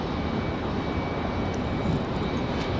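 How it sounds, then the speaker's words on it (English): A Southwest Boeing 737-800 departs Raleigh Durham International, a loud, broad jet engine roar that fills the whole moment with steady rumbling power and no voices. "That surprise departure there. Southwest 1685 off to Las Vegas. 737-800"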